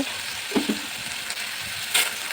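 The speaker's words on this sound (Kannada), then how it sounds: "ಒಂದು ಪ್ಯಾನ್ನಲ್ಲಿ ಸ್ವಲ್ಪ ಆಯಿಲ್ ಹಾಕಿ ಕಡಲೆಬೇಳೆ ಈರುಳ್ಳಿ ಹಸಿಮೆಣಸಿನ್ಕಾಯಿ ಟೊಮೊಟೊ" Chana dal, onion, green chili and tomato fry in oil in a pan, giving a steady close sizzle broken by a few brief stirring scrapes, with no talking.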